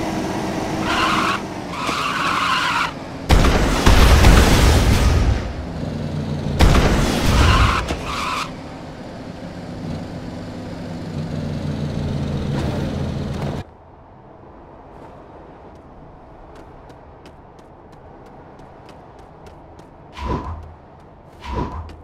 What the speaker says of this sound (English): I took each of the land and air vehicles out and drove them and flew them around for a bit